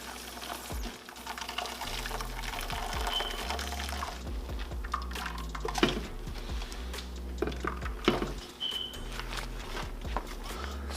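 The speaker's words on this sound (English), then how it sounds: "so I still add water to the bag." Water being poured into a bag of soy milk pulp while making homemade soy milk in a kitchen, with splashing and trickling in bursts, close and fairly soft, along with handling noises and a few clinks.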